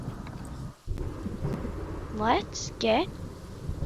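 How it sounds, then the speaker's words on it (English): Rain falls steadily in the Planet Zoo video game, with two short, brighter bursts of storm sound partway through. Someone talks briefly over it. "and now it's actually raining."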